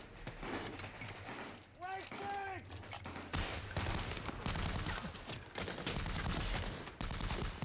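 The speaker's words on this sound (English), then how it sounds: "we switch perspectives to the machine gunners as they defend their position against the Germans." Machine gunners defending a position against Germans in a war film battle scene: dense bursts of automatic gunfire and explosions roll on steadily while someone narrates over them.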